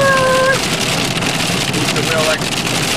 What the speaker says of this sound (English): I'll stand out there in the nice warm rain.